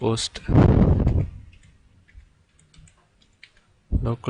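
Faint clicks of someone typing localhost on a computer keyboard sit between louder stretches of talk at the start and end.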